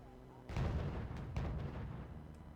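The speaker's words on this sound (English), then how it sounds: "Got some mortars being fired" Mortars firing in the Wargame Red Dragon strategy game: two heavy, booming launches about a second apart, with a rumbling tail that lingers between and after them.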